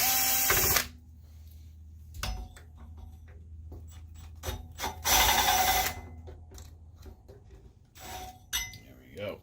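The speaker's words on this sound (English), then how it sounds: "So we're just going to start pulling screws." Screws are pulled from the boards of a SpeakerCraft BB1235 12-channel amplifier, with close metallic clicks, ratcheting tool turns and clinks of loose parts in short scattered bursts separated by quiet pauses.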